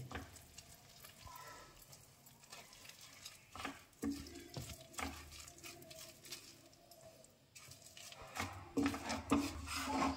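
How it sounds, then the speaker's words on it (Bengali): Rice flour stirred a little at a time into boiling water in a pot for chusi pitha, continuous scraping and rubbing with bubbling sizzle, rising louder near the end; no talking. "এবার আমি অল্প অল্প করে চালের গুঁড়ো দেবো আর মিশাবো"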